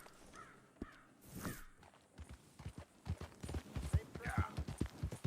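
Horse hooves clip-clop on the ground in the Red Dead Redemption video game, a Missouri Fox Trotter ridden near a stable; the steps start sparse, then become a quicker, uneven run, with a crow cawing and a voice speaking.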